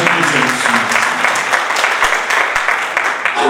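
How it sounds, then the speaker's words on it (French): Wedding guests at a civil marriage ceremony at the town hall clap loudly and steadily for the bride, a close, dense burst of applause with a few sharper individual claps. "Applaudissez pour Mademoiselle Sunga"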